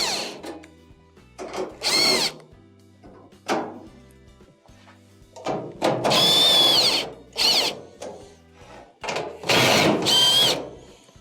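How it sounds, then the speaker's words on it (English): A power drill backs quarter-inch screws out of a Maytag dryer casing during a thermal fuse repair, giving several short, loud whirring bursts separated by quiet pauses, with no talking. "you have a couple of 1/4" screws on each side that have to be taken off"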